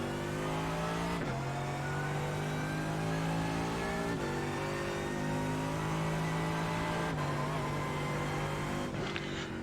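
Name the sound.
Mercedes AMG GT3 engine at Hockenheimring in racing video game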